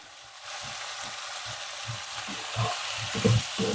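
Soaked moong dal, split green gram, hits a hot pan and fries with a steady sizzle, punctuated by rhythmic stirring scrapes close by, with no talking.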